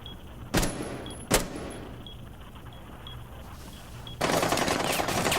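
Gunfire from the Rainbow 6 Siege video game during a tournament match: wallbang shots pierce a wall. Two sharp, loud single shots come a moment apart, then a dense, sustained burst of noise at the end. No one talks.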